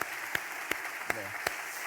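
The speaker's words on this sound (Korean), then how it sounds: "자리에서 일어나 주시면 우리 환영합니다 하는 박수를" A church congregation claps to welcome a new family during Sunday worship, heard as a few slow, evenly spaced claps over a quiet, hushed room.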